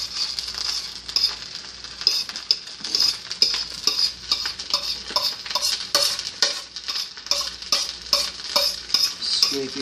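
An egg fries in butter in a pan for shrimp fried rice, with a steady bright sizzle beneath repeated rhythmic scrapes and stirs of a utensil across the pan surface, close and fairly loud, with no voices.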